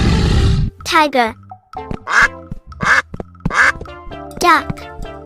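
A cartoon duck in a children's animation gives a series of bright, nasal quacks in quick bursts, loud and close, over a steady musical backing.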